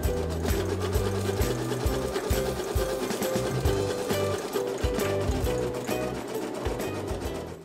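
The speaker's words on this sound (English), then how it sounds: "it's going to do a satin stitch around the shape that you're applicating." An embroidery machine stitches a dense satin stitch around an appliqué shape held in a hoop, a steady close-up mechanical whir with a fast, even needle rhythm running without pause.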